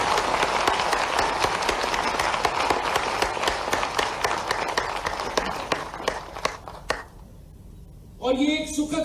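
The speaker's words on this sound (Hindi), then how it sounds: "मैं तालियों की गड़गड़ाहट से उनका हम स्वागत करता हूं।" An audience in Gwalior welcomes the Vice President with sustained crowd applause, loud and even for about seven seconds before dying out, followed by a brief spoken voice.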